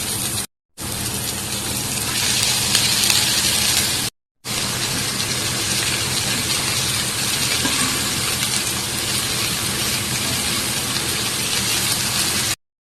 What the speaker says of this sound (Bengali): এখন আমি এর মধ্যে দিয়ে দিচ্ছি শাক